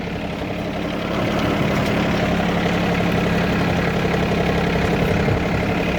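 A VST 932DI 30hp tractor engine labouring steadily while ploughing a field, a loud continuous diesel drone close by that swells slightly after the first second, with no talking.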